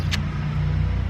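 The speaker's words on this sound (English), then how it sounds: "it's a very loud truck." A very loud truck passes close by outside, a steady heavy engine rumble filling the whole moment, with no talk over it.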